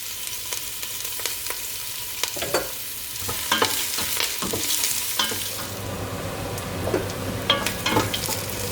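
Onions frying in a pan with cinnamon, bay leaves and curry leaves produce a steady sizzle broken by repeated scraping strokes of a stirring utensil, close and moderately loud.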